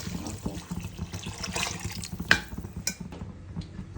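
Water pours into a pot of chicken pulao with green chilli and mint, a steady close splashing and gurgling that runs throughout with a brief sharper clink partway.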